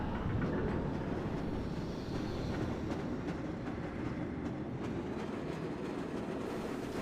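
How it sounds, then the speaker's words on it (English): A small rail car in Black Mesa: Source rumbles steadily along the track, with a dense low roar and faint rhythmic clatter filling the scene from start to finish, no voices over it. "When you're on this little train car right here running stuff over like that, you really get a sense of speed too"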